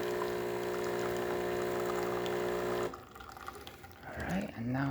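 A De'Longhi Magnifica espresso machine hums with a steady stream of coffee pouring, then the motor cuts out, leaving trickling and dripping with a rising gurgle near the end.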